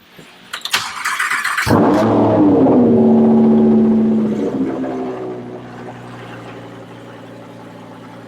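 A McLaren 570S engine cranks and catches after a brief starter whir, flaring into a loud rev before settling to a steady idle; no talking.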